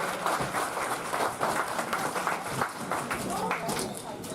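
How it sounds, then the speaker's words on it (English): A crowd at a lacrosse game applauds, dense outdoor clapping and cheering with voices mixed in, sustained at an even level throughout. "let's give them all a huge round of applause for making today possible"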